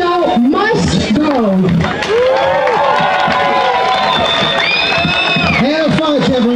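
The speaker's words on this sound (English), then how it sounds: "Thank you, everyone, for clapping and being here." Crowd at an outdoor freedom rally at Queen's Park North in Toronto, cheering and whooping loudly with some clapping, voices shouting over one another in a sustained, dense roar throughout.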